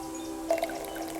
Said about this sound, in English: Juice pours like light.